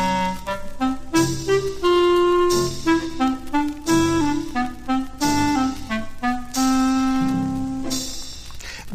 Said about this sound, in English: He's represented by a clarinet in a very low, in a very low register.